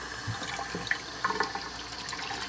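Tap water runs steadily into a sink while the temperature is adjusted for bathing a guinea pig, with a few faint clinks and knocks over the continuous flow and no voices.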